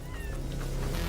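A cat meows in a video game trailer, a brief mid-level call over a dense, steady bed of low rumbling music and effects.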